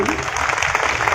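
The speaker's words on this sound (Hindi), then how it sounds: "विधायक जी आए, एक बार ताली बजा दीजिए भाई के लिए" Applause for an MLA at a large Gurjar community rally in Gwalior, a loud continuous patter of many hands clapping through the whole moment, with voices mixed in.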